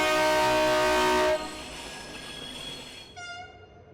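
A narrow gauge 3-foot 6-inch train on a Tasmanian mainline sounds a loud multi-tone horn blast that cuts off, then a softer sustained note and a final short horn toot, with a low rumble underneath.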